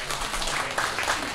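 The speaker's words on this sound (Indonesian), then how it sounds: "Berikan tepuk tangan buat Tuhan" Congregation applauding during a church Christmas service, a broad continuous clapping that fills the space evenly for its short duration.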